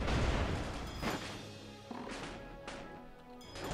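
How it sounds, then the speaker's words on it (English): Airship weapons firing in the Airships: Conquer the Skies game, a loud opening barrage of booms followed by scattered cannon-like blasts and crashes, several distinct impacts fading in and out. "They're constantly firing"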